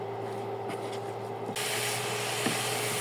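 Grated coconut being stirred in a pan on the stove for making sweet jaggery naru, a steady close scraping and rubbing with periodic strokes that grows louder partway through, with no talking.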